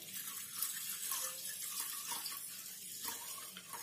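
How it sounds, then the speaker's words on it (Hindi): Water pours steadily into a bowl of soaking chickpeas and whole mung beans. The stream is continuous and soft at moderate distance, and nobody speaks. "तो अब इसमें जो हम पानी डाल देते हैं।"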